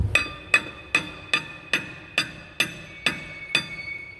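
A hammer taps the back of a brake rotor on a 2009 Toyota Camry Hybrid during rear wheel bearing work: nine sharp metallic knocks at a steady, even pace, close and ringing.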